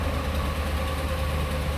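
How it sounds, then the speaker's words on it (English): A pickup truck idles steadily up close, its engine rumble carrying the ticking, puffing rasp of an exhaust manifold leak, continuous and loud with no talk over it. "Try to ignore the obnoxious exhaust manifold leak I got."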